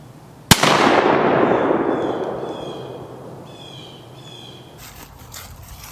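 A shotgun fires a heavy steel waterfowl shell through a mid-range choke at 35 yards, one loud close blast with a long rolling echo that fades over several seconds outdoors.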